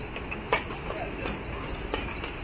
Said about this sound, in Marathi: हे बघा दिवा स्टेशनला ट्रेन लागलेली आहे.